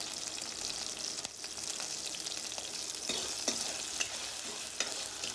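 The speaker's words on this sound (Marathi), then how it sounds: "आणि आलू परतून घेऊया। आणि इथे मी कापलेल्या 2 मिरच्या टाकतो" Potatoes with cumin, curry leaves and two chopped green chillies frying in a pan while being stirred, a soft steady sizzle with scattered scraping clicks of the spoon, close and alone.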